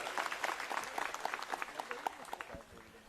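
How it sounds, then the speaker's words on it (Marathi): Crowd applause at a Shiv Sena public rally in Nandgaon, Maharashtra, a dense wash of many hands clapping at moderate distance for about three seconds, thinning near the end. "यांचाही सर्वांनी टाळ्या वाजून स्वागत करावे"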